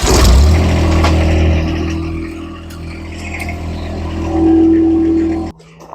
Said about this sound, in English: So now I could just drive away.